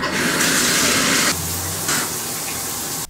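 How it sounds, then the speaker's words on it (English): Shower water runs steadily in a steady broadband hiss, loud and close, with a brief drop in level partway through as the spray shifts. "I got in the shower."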